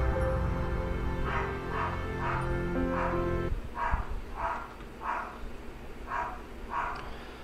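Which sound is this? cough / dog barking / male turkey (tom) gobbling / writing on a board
dog barking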